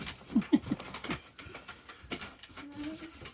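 A dog whimpers in short, soft high-pitched cries, with faint panting and small rustling movements nearby.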